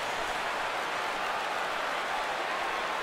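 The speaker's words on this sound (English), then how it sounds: "Crowd on its feet." Stadium crowd in the baseball video game MLB 16, a steady broadband wash of cheering and applause, moderately quiet, continuous across the moment with no clear voices on top.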